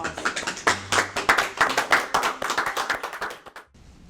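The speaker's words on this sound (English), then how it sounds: "Applause." Studio audience at a school talk show clapping in a lively, somewhat uneven burst of distinct hand claps, fairly close and loud, stopping abruptly near the end before a quiet tail.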